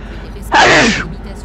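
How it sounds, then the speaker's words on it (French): A single short sneeze bursts out close by, with a sharp intake and release lasting about half a second amid faint background noise inside a truck cab. "Ah, si je commence à m'éternuer, c'est bon."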